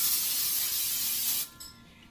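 Cooking spray hisses steadily into a bread pan for over a second, then cuts off, leaving a quieter tail of faint residual sound.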